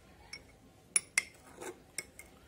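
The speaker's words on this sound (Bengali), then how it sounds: "এবার এটিকে ভালো করে নাড়িয়ে নিতে হবে।" A spoon stirs sand, water and salt in a glass during a sand silt test, giving several sharp bright clinks against the glass in an irregular rhythm, close and alone.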